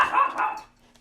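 One dog gives a short, loud bark close by, with a brief second yelp right after, and then the sound fades out.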